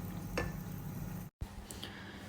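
Amla paste cooks in ghee over a low flame, giving a steady soft sizzle with a couple of faint clicks and a brief dropout partway through.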